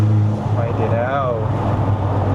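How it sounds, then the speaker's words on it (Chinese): A turbo blow-off valve on a Mercedes-Benz W212 E250 AMG Line lets out a short rising whoosh and chirp as the throttle lifts on a mountain road drive, over steady engine and road drone, with people talking. "这个 blow off 很爽，"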